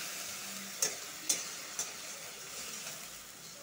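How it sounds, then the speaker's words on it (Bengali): Quiet, steady sizzling of cumin, coriander and green chilli spice paste frying in a pan, broken by a few soft clicks of stirring, with no voices. "মশলাটা আবার ভালো করে ভেজে নিব।"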